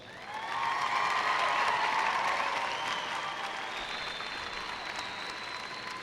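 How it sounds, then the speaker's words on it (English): Sustained applause from a large commencement crowd honoring graduates' friends and family, swelling quickly and holding steady as a dense, continuous wash of clapping with some cheering mixed in. "Graduates, let's give them a round of applause."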